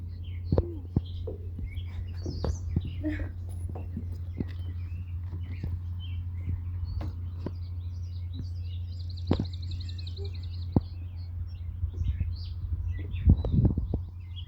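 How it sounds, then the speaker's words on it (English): Outdoors on a nature path, scattered birds chirp and call at varying distances against a low steady background hum, with occasional sharp clicks and soft footsteps. "See all the birds flying around."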